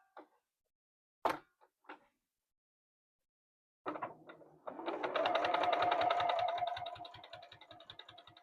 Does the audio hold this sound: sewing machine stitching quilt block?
yes